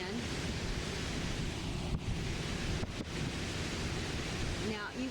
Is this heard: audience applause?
no